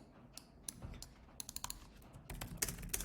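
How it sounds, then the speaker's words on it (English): Fingers type on an Estonian computer keyboard in quick, uneven bursts of close, crisp key clicks, quiet and alone with no talking. "I apologize for my typing here. I have an Estonian keyboard"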